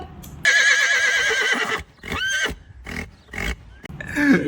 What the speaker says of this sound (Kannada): ಕುದುರೆ